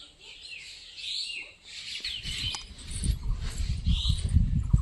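Small birds chirp in high, scattered tweets in a small tree in the morning, with low rustling and thumping noises rising underneath in the second half.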